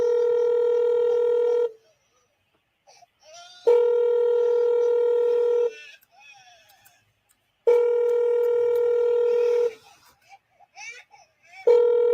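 A phone is being dialed to reach a church care pastor, with long steady electronic tones repeating at intervals and short quiet gaps of faint background sound between them.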